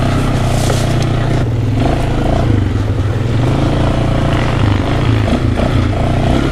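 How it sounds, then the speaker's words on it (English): A quad bike engine drones steadily while riding outdoors, loud and close with continuous rumble and some rattling and scraping, no clear speech over it. "today I'm riding on the quad"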